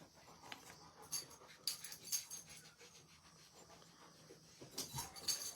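Dogs shuffle and move about close by indoors, giving faint whimpers and soft panting breaths, with a few sharper rustling bursts over a quiet background.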